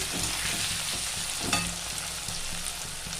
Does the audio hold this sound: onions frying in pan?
yes